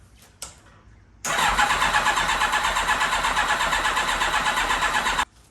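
A Kawasaki Ninja ZX7R motorcycle, out of gas and choked, cranking over: a brief click, then about four seconds of steady, even starter churning that stops abruptly without the engine catching.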